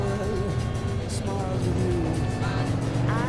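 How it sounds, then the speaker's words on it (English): A car engine in the Mafia 2 video game, loud and steady, droning close by and dominating throughout, with a voice talking underneath. "the cars are so loud in this game and I feel like they overpower my voice"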